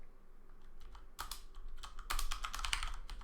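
Typing on a computer keyboard: a few scattered key clicks, then a denser burst of quick, close, crisp keystrokes, with no talk over them.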